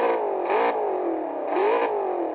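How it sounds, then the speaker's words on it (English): A car engine in the CSR Racing 2 video game revs twice, each a rising whine that swells and falls back, loud and close with a steady engine drone between the revs and no talk. "You hear that engine?"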